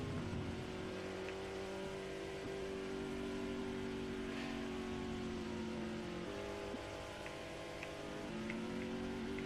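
A NASCAR-style race car engine in the video game NR Thunder, heard on the last lap of a race: a loud, continuous droning roar with a sustained pitch that shifts slightly as the car runs steadily around the track.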